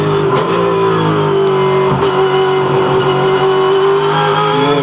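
Loud, sustained roar of a V8 Supercar engine held under heavy throttle during qualifying at Bathurst, steady high-pitched whine with little variation, no voices.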